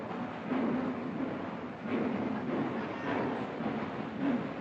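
Train at a railway station with a steady, low rumble of rolling rail cars and station ambience, fairly faint and continuous, with no voices.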